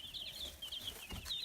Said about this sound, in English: seconds here of just the chickens walking around, being very chick-like